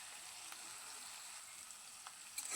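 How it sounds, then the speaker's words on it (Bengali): Potatoes frying in a pan with salt and turmeric, giving a faint, even hiss of oil with a couple of soft crackles and a light scrape near the end. "এটাকে আলুটাকে আগে ভেজে নেব"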